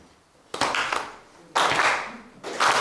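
Three bursts of audience hand-clapping come close and loud, each rising sharply then fading, with short quieter gaps between them.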